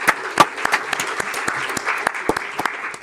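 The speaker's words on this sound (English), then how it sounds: "So if we could give them a round of applause" Audience applause for a graphics team at a NASA Moon plan space news event, a steady round of clapping with sharp individual claps standing out over about three seconds.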